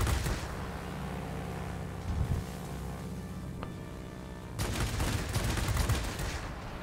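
Machine-gun fire from a Me 265 attack aircraft in the World of Warplanes game: rapid bursts open the clip and return in a longer, louder stretch near the end, over a constant engine drone.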